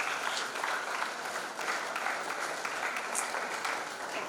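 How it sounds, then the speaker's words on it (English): Sustained audience applause from a crowd at a career guidance program, a steady dense wash of clapping at moderate volume from start to finish, with no talk over it. "Shall we give a warm big round of applause for all the girls here?"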